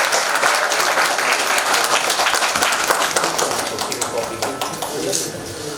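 An audience applauds loudly before a stage play, Jaishankar Prasad's Ek Ghoont staged by a Lucknow theatre group, with thick, crisp clapping that holds steady and then thins slightly toward the end.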